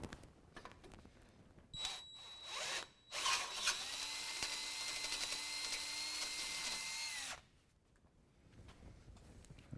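A power drill runs in a steady whine for several seconds while trimming a hole for a nut cert during a lift kit install on a 2017 Silverado 2500 HD, preceded by brief bursts and ending abruptly.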